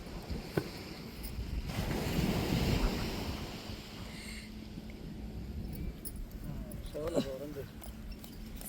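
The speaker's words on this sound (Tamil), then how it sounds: "அந்த அலைகள் வந்து அரிச்சரித்து மண்ணை பாருங்கள் எப்படி இருக்குங்க கரையோரமாக" Sea waves washing up onto a sandy beach where tuna is being prepared for curry, a soft continuous surf rumble with wind buffeting the microphone, while someone talks over it throughout.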